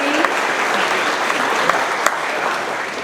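Dense audience applause at a trucking company's monthly employee celebration, a loud, steady roar of many hands clapping with a few sharper claps standing out.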